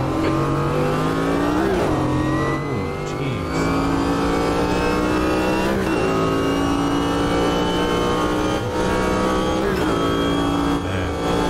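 A Corvette GTP Group C race car from a racing video game, driven at Hockenheim, revs hard, its engine note climbing and dropping through repeated gear changes, loud and close throughout.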